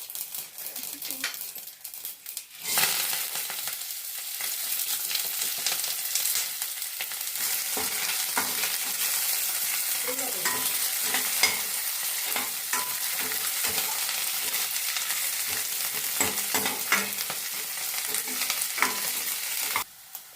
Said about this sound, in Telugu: ఆయిల్ హీట్ ఎక్కింది. ఇప్పుడు ఆవాలు, జీలకర్ర వేయాలి.